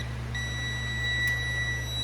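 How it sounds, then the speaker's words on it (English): A single steady electronic beep tone from a fuel gauge tester on a 1988 Chevy C30 pickup sounds partway through and holds over a constant low electrical hum. "in the end, we should get a beep"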